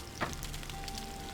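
Meat sizzles faintly and steadily on a makeshift frying station in Gothic 2, with a brief sharper crackle near the start.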